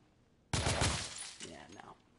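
A loud burst of rapid gunfire from a machine gun in The Order: 1886 breaks out of near-silence, a quick rattling volley that decays into scattered clatter and echo.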